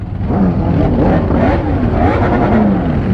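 Sport motorcycles such as Yamaha R1s, BMW S1000s, a ZX14 and a ZX6R rev loudly and continuously at a Philadelphia bike meet, overlapping engine roars rising and falling close by.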